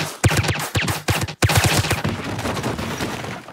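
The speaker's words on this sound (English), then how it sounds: "There is one shootout in the movie, one, that plays out in real time." Loud, rapid gunfire from a movie shootout in The Boondock Saints II comes in dense overlapping bursts of shots, a short gap, then continued heavy firing with booming reverberation.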